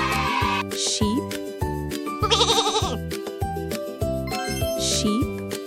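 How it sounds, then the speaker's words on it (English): A sheep bleats several times over a bouncy backing track with rhythmic beats and jingling, the animal calls loud and close. "sheep,"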